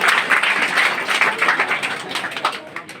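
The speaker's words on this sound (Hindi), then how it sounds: "जोरदार तालियों से स्वागत कीजिएगा।" Applause breaks out in a village gathering as a student is welcomed, many hands clapping close and loud in an uneven, bursting rhythm that continues for the full stretch.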